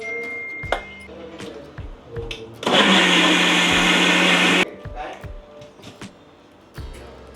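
A kitchen mixer whirs loudly for about two seconds, blending pedha sweets with milk into a thin paste for kheer, with clinks and handling sounds before and after.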